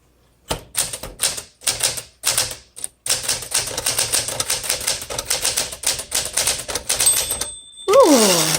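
Rapid mechanical clacking of a 1963 Smith Corona Sterling 5AX manual typewriter's keys, steady and close, ending with a carriage return and a ringing bell.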